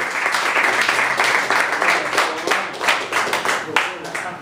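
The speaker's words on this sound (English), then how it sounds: "Keep clapping until we get it up here." Audience at a New York City open mic clapping for comedian Charlie Wilson coming to the stage, a continuous dense wash of applause from a room full of people, steady and fairly loud, with some voices underneath.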